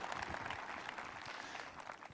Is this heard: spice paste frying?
no